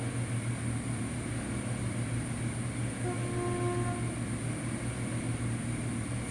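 A Voyager Class 220 train in Train Simulator 2014 on the Brighton to Croydon line gives a steady, loud rumbling drone, with a brief horn-like tone sounding midway.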